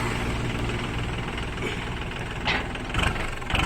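A second-hand Thai walk-behind tractor engine idles close by with a steady, dense rumble, a few louder knocks and surges near the end.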